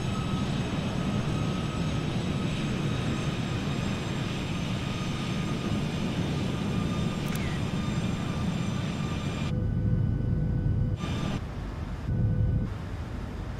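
A PMDG 737-800 in Microsoft Flight Simulator 2020 drones with a steady jet engine roar on approach into Phoenix. The cockpit rumble holds for a long stretch, broken near the end by a few brief cutouts.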